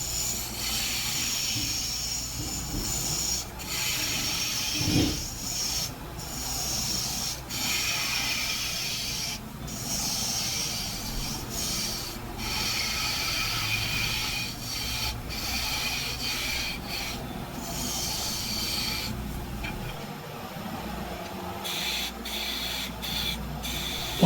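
A #1 hollower cutting the foot curve on a natural-edge maple burl bowl spinning on a lathe, a steady close scraping hiss broken by short rhythmic gaps, with no talk.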